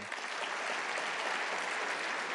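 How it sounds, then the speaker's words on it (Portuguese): Brief, even audience applause at an awards ceremony with a keynote: a continuous wash of many hands clapping, fairly distant and soft, with no clear talking. "Salva de palmas para a Flávia."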